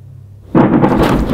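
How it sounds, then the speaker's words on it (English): Fireworks going off somewhere far away on an island, heard as a sudden deep booming burst that rolls on in a rumbling, crackling wash after a quiet start. "I'm fairly certain this noise was just a bunch of fireworks being set off somewhere"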